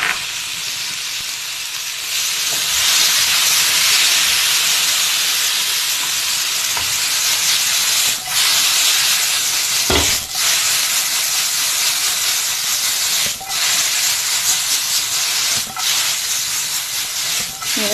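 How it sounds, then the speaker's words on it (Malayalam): Dal tempering sizzles and hisses steadily in a hot pan with curry leaves, a loud continuous fry with a few brief stirring knocks. "ഇങ്ങനെ ഫ്രൈ ചെയ്തെടുക്കണം."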